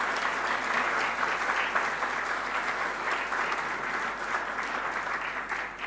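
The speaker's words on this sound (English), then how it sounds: "Can we just give them another round of applause?" Sustained applause from a sizable crowd at a Salvation Army band concert, dense and steady clapping throughout, fairly loud and close, tapering slightly at the end.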